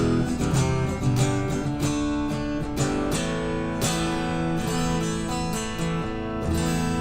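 An electric guitar voiced to sound like an acoustic, played dry through an RK5 Mark II, bright picked chords and notes ringing continuously at moderate volume, with no talking.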